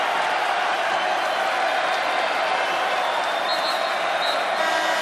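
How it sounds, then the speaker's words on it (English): A crowd roars steadily in the Moby Arena basketball venue during a New Mexico vs Colorado State men's college game, a dense, continuous wash of cheering and applause with an announcer talking over it. "Much to the delight of the crowd here at Moby Arena."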